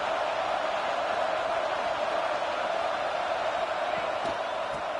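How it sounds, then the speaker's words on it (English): A packed stadium crowd at a college football game against Clemson roars in a dense, continuous wash of noise. It is heard from a distance, with no distinct peaks and no clear speech. "listen to this crowd noise. This stadium is vibrating."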